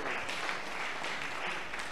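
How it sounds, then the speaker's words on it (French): Audience applause at a francophone parishes and faiths conference, a dense steady wash of many hands clapping from start to finish with no break. "si nous pouvons acclamer"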